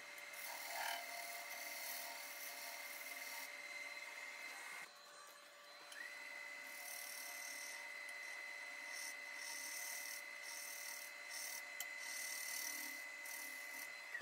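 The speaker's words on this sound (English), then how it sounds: "I just switch over to the other side of the lathe and make these cuts." A wood lathe spins as a small skew chisel laid flat cuts a dovetail shape on a wooden wall sign, giving a faint steady whine with light scraping and a brief pause midway, without talk.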